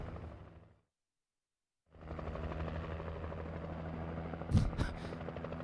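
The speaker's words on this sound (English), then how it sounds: "The helicopter made a clean turn." Helicopter in the video game Alan Wake Remastered, a loud steady rotor drone that cuts out briefly and then returns, with a couple of sharp bangs near the end and no voices.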